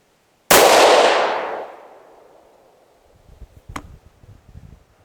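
A single loud, close rifle shot from a Ruger American Ranch in 6mm ARC, a sharp crack with a long decaying echo, followed by a faint metallic ring and low handling noises.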